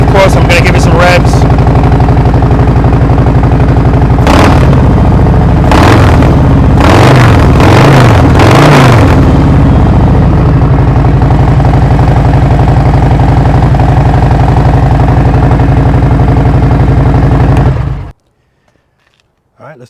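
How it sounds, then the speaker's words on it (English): A 2021 Harley-Davidson Road Glide CVO fitted with Tab Performance slip-on exhausts idles loudly, then revs in several sharp throttle blips before shutting off abruptly near the end. "And of course, I'm going to give it some revs."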